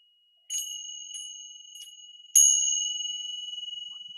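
Tibetan ting sha hand cymbals tapped lightly three times, then struck firmly once, ringing out bright and sustained with a gentle wavering shimmer as it decays, close and without other sound.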